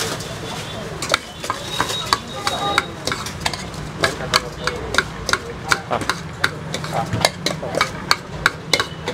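Chaat ingredients with lemon, coconut and onion are tossed and mixed at a street stall, giving a fast run of close metallic clinks and scrapes against a bowl over busy background noise.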